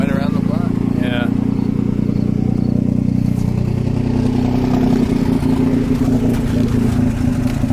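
Nissan 300ZX car engine running while burning oil, a loud continuous low idle rumble with a slightly rough rhythm, while people talk over it.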